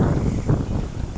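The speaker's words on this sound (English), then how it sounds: "It is pretty windy out here." Steady wind buffets the microphone outdoors in the Philippines, a continuous low rumbling roar that fills the whole moment with no pauses and no voices.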